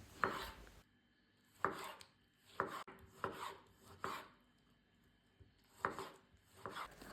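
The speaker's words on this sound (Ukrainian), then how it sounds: "Беру два середніх помідора та нарізаю середніми шматками." A knife chops tomatoes on a board in a series of sharp, close cuts, spaced irregularly with brief pauses between strokes.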